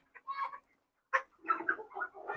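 Rhode Island Red and Kadaknath hens, four months old, clucking close by: a few short bursts of soft, throaty clucks separated by a brief pause, fairly faint and without talk.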